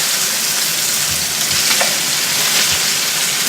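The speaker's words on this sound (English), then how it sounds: "we're going to cook that for about 3 minutes, trying to get this kind of brown golden crust on one side" Food frying in a pan on a home stove, searing for a golden-brown crust, gives a steady, loud, close sizzle with a few soft pops and crackles, no voices.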